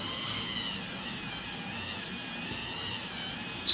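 A dental handpiece spins a blue FlexiCup polisher across the facial surface of a composite veneer, giving a steady, high-pitched whine that holds evenly throughout, close and alone.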